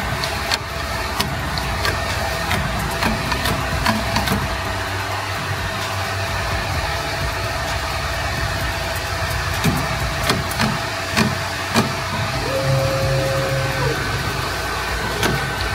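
A Ricoh Ri 4000 DTG garment printer laying down a second layer of white ink, giving a steady mechanical hum and whir with faint clicks and a brief tonal whine from the carriage, continuous and fairly loud throughout.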